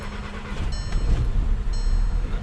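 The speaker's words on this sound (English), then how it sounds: "There's a misfire." A 2010 VW EOS 2.0L engine running rough with a misfire and black smoke, a steady close low rumble with uneven pulses and faint high whine, no talking.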